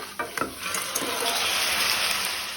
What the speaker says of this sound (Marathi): कानो तळसून जालो तातूंत हांव कुल्ल्यो घालता